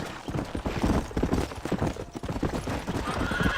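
Horse hooves clip-clop in a steady, rapid rhythm in Red Dead Redemption, close and continuous over rough ambient noise with no speech.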